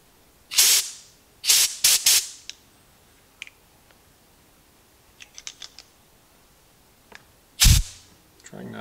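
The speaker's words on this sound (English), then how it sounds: "Trusty air nozzle." A compressed-air nozzle fires short, sharp hissing blasts through a Cuisinart coffee carafe, a few quick bursts early, faint ticks in between, and one more strong blast near the end, close by.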